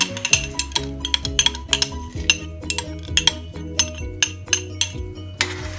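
Rice stirred in boiling milk for Turkish sütlaç, with a spoon clinking and scraping against the metal pot in a steady rhythm of bright, close taps over a low simmering bubble.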